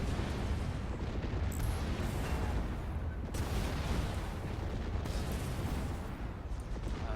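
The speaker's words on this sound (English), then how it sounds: "fire another missile salvo" Missile salvo fired and exploding in the space-combat video game Fracture, a dense, continuous rumbling roar of blasts and bursts that stays loud and steady throughout with no talk.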